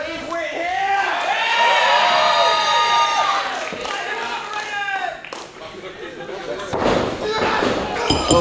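A pro wrestling crowd at a Fight Kingdom show by Asylum Pro roars and cheers as the match opens, a loud sustained swell with shouts and scattered claps, then a sharp thud near the end.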